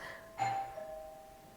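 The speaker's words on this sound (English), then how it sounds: "And that was my doorbell." A single doorbell chime sounds at a distance in a quiet room, a clear ding that rings on and slowly fades.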